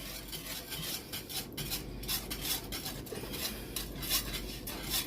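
A metal spoon scrapes and stirs roux in a pot for jalapeño mac and cheese, with continuous soft scraping and clinking over a low background hum and no talking.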